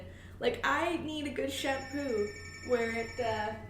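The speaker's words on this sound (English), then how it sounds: "so sorry about the phone going off." A telephone rings with a steady electronic tone that sits under a person talking continuously indoors throughout.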